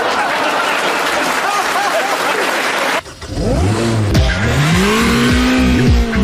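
An Ariel Atom sports car accelerates hard on a track, its engine note sweeping up in pitch through several quick gear changes. Crowd noise and applause come first, then the close, loud engine revving takes over.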